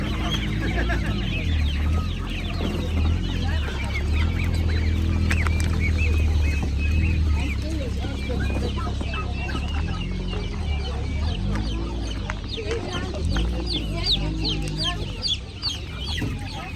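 Many chickens cluck and squawk continuously in a busy crowd at the Privoz market, with people talking faintly among them and steady low background noise.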